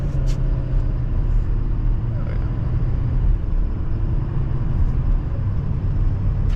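A 2024 Silverado Duramax dually pickup truck drives along with a steady, loud low rumble of engine and road noise heard from inside the cab, with no breaks.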